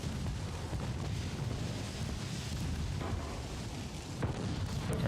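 Continuous rumbling naval gunfire from 4-inch guns in Ultimate Admiral: Dreadnoughts, a dense roar of distant booms and explosions with a few louder thumps, no voices.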